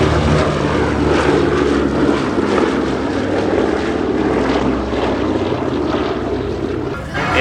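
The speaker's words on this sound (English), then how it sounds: "We do have the B-17 Flying Fortress in parade review after its takeoff." A B-17 Flying Fortress propeller bomber roars steadily past during an airshow parade pass, its loud multi-engine drone sustained throughout with a slight dip near the end.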